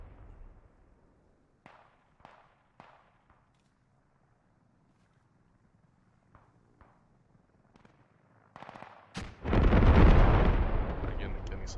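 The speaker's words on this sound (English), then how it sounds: "Artillery dropping airfield." Artillery shells an airfield in the military video game Squad, with several sharp distant booms spaced apart, then a heavy close blast that rumbles on loudly, while a voice speaks faintly at times.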